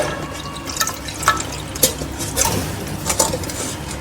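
Water splashes and trickles into a metal pressure cooker holding liver in uneven bursts, close by, with light clanks in between.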